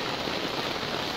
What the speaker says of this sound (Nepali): अझै ठुलो पानी आइरहेछ।